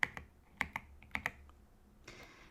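Someone types on a mechanical keyboard with thocky switches, heard from underneath. Close, crisp keystrokes land in small irregular clusters, then a soft rustle follows.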